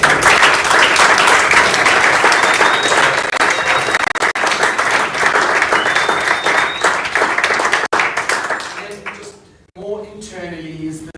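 Loud, sustained audience applause for project presenters, steady for about eight seconds, then dying away as a voice begins speaking.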